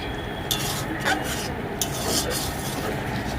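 Potol curry with coriander leaves and a spoonful of ghee being stirred in a pan, a steady scraping rasp with a few sharper clinks of the spoon against the metal over a low continuous hiss.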